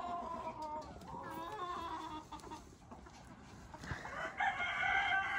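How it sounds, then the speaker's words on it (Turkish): Chickens in a backyard tent coop cluck and call close by, with a rooster-like crow rising near the end, over soft outdoor background noise. "Şu da kibar bir tavuğumuz."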